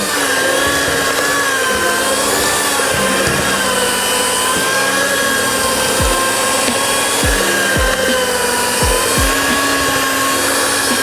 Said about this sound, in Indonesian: jangan dipaksakan si mixer untuk iniin si adonan